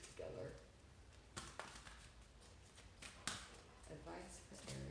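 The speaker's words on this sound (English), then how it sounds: "These cards are a little bit hard to shuffle because they kind of stick together." Cards riffle and flutter in short rustling bursts, with a few taps and shuffles, under a person talking quietly nearby.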